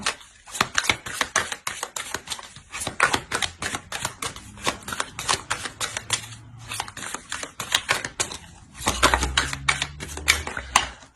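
Tarot cards being shuffled and laid out on a table in a rapid run of crisp flicks and slaps, with a few short pauses and a heavier bout of shuffling near the end, close and clear.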